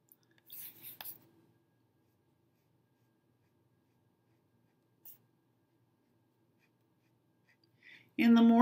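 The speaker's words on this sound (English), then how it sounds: "And the more times you color over it, the darker it gets." A pen scratches briefly and faintly while coloring in a drawing, a short burst of scribbling near the start followed by near-silence and a louder sound at the very end.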